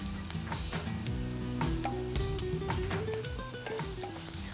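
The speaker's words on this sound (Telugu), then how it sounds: "ఆనియన్స్ వేగిన తర్వాత పచ్చిమిర్చి యాడ్ చేసాం." Onions and green chillies fry in a pan with a dense, constant sizzle. Melodic background music plays throughout, and the sizzle stays prominent.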